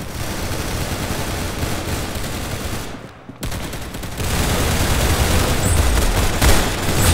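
Automatic gunfire in the Roblox Arsenal video game: loud, dense bursts of rapid shots that run almost continuously, with a brief lull before the firing resumes even heavier.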